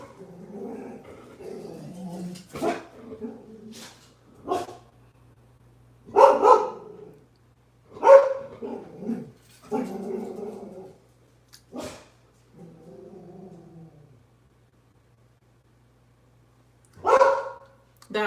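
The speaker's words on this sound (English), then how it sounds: "My dog is barking." A dog barks close by in scattered bursts, single barks and short runs with some growling and whimpering between them, set against a low mains hum and quiet stretches.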